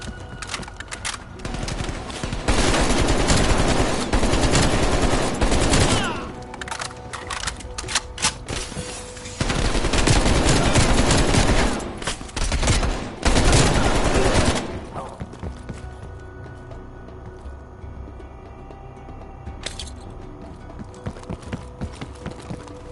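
Loud bursts of automatic gunfire in the video game Call of Duty Cold War, three dense volleys of rapid shots separated by brief pauses, then quieter scattered shots and ambient game noise.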